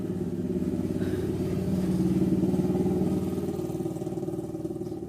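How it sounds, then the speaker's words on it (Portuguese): A motorcycle engine drones steadily nearby, swelling as it passes and fading slightly toward the end, with no talking over it. "Peraí, passar a moto aqui."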